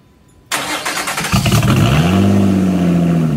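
A Lotus Evora's 2GR-FE V6 cranks and catches abruptly, flaring briefly before settling into a steady, loud, close idle with a smooth low hum.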